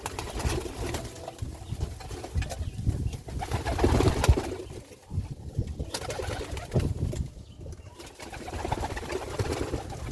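Capuchin pigeons coo in a breeding loft in Jamaica, a close, low, throaty cooing that rises and falls over several seconds while the birds feed, with bits of rustling.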